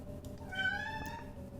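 A cat gives a single drawn-out meow with a rising and falling pitch, near and clear over a low background hum.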